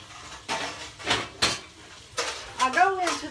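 A stainless lasagna pan is pulled out among other pans, giving several sharp metallic clanks and clatters in quick bursts, close by, with a voice briefly heard.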